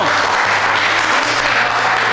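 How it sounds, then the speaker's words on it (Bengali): An audience at a college quiz and game show applauds two competing teams, a dense, loud, continuous clapping throughout. "জোরে হাততালি হবে দুটো টিমের জন্য।"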